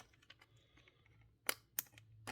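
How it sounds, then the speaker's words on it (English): A plastic body retaining clip on a Mini-Z model car snaps into place: a few faint handling rustles, then three sharp, close clicks in quick succession. "put them in, slide it down, hear a nice click"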